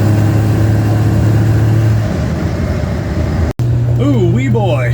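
A Pontiac straight-six car with a Weber two-barrel carburetor and two-speed transmission pulls hard under acceleration, its steady engine drone breaking off briefly for a gear shift before rising again in a loud, close rising whine.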